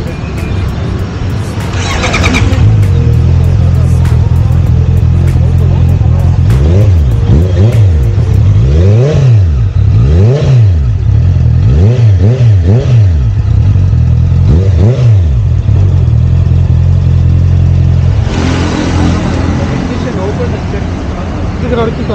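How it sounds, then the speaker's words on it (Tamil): An inline-four motorcycle engine idles, then its exhaust revs repeatedly in rising and falling bursts, loud and close, before settling back to a steady rumble. "எக்ஸாஸ்ட் நோட் கேட்குறீங்களா? நம்மளோட ஃபஸ்ட்டு இன்லைன் 4 வந்துருக்கு கெராஜுக்கு."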